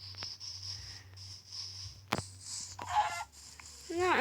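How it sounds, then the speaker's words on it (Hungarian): Chicken clucking in the Minecraft video game, a few short game-style clucks heard at moderate level over a steady background hum and other game sounds. "Ó, ez nem az, ez csak csirke."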